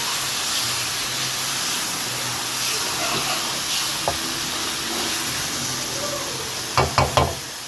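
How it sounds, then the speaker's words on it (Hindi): Bread-cone samosa stuffing with green onion, chilli sauce and soy sauce sautéing in a pan: a loud continuous hissing sizzle, ending with a few sharp spoon knocks against the pan. "बस हम इसको इतना सौते करेंगे कि ये जो मैंने चिल्ली सॉस, सोया सॉस डाला है ये थोड़ा ड्राइनेस में आ जाए"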